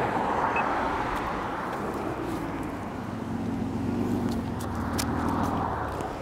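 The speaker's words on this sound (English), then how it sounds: "The cars had to stop, but they're flying down this hill" Cars speeding down a hill along Old Ferry Road, heard as a continuous roar of passing traffic mixed with wind noise, fairly loud and steady throughout.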